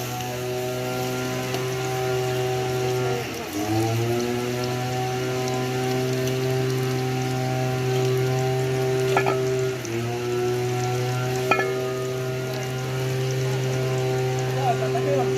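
Chicken par-roasts in a hot pot for brown stew, a steady crackling sizzle under a loud sustained tonal hum that dips briefly a couple of times.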